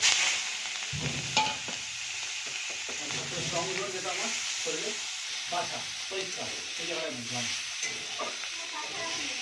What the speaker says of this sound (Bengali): চিংড়ি মাছটাকে ভালো করে লাল করে পিট পিট করে ভেজে নেবো।